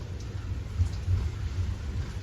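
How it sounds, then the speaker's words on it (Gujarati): Low thunder rumbles steadily in the distance under a constant wash of rain, with no voices. "મિત્રો, ગાજે છે જે તમને સંભળાતું હશે."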